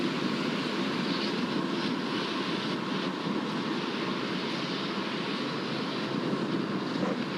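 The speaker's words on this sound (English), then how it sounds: "Merlin engines are now throttling down as they anticipate the moment of greatest aerodynamic pressure" A SpaceX Falcon 9 climbing toward max Q on a Starlink launch, its Merlin engines giving off a steady, dense broadband roar that holds constant and loud from start to finish, with no voices.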